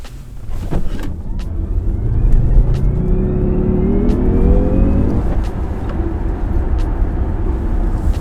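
A Jaguar I-Pace electric car accelerates from near standstill, a rising whine climbing steadily in pitch over a steady rumble of road and wind noise.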